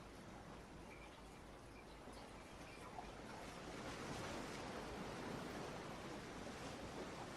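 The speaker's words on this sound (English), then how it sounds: "if we could turn the sound up on those waves" Ocean waves breaking on a shore, a continuous broadband wash of surf that swells slightly louder midway, faint and distant with no voices.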